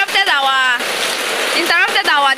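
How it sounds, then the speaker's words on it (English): Heavy rain pours down steadily in Onitsha, Anambra State, Nigeria, a dense loud hiss heard from indoors, with a voice speaking excitedly over it at the start and end. "Rain is falling. It's a serious rain here."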